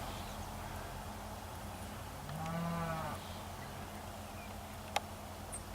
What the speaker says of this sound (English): Cows out there.